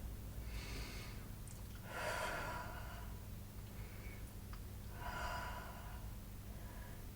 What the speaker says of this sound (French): On fait 2-3 respirations.